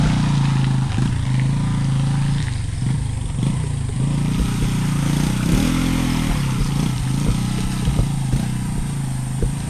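A motorcycle engine idles close by with a steady low throbbing rumble, brief revs and clattering knocks scattered throughout.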